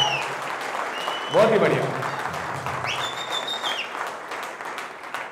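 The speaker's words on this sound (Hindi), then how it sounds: "शिंदे साहब के लिए जोरदार ताली हो" An audience applauds Shinde with continuous clapping, while a voice talks over it and a voice briefly whoops partway through.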